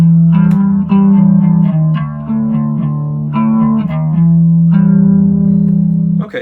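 Bass guitar run through a pedalboard with a chorus effect, a continuous melodic line of sustained low notes with a shimmering modulated wash, played loud and alone.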